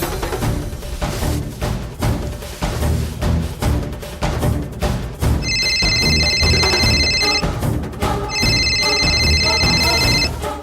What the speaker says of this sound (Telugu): అమ్మా, రింగ్ అయింది.